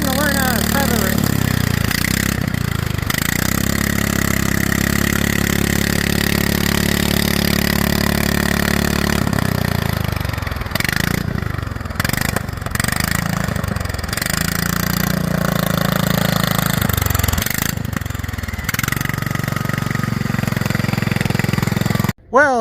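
Racing lawn mower engine being throttled during a test drive at a raceway, loud and close, revving up and down in repeated surges with some speech over it.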